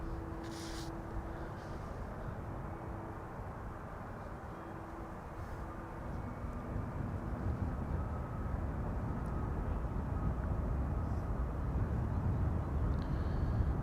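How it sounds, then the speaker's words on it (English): GE90 jet engines spool up at Schiphol Airport. A broad, distant roar builds slowly and grows steadily louder over fourteen seconds, with a faint tonal hum early on. "You guys are hearing GE90s being started."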